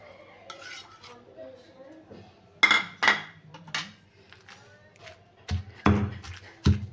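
Brinjal being stirred with chili in a pan for a village-style bharit, giving a few sharp scraping clinks of a spoon against the pan, spaced irregularly and fairly close, with quiet pauses between.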